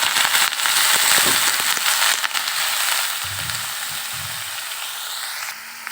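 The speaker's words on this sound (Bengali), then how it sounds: "এখানে আমি ভাজিটা দিয়ে দিয়েছি" Eggplant and potato frying in a wok for a Bengali bhaji, a steady dense sizzle that fades slightly after a few seconds, heard alone without speech.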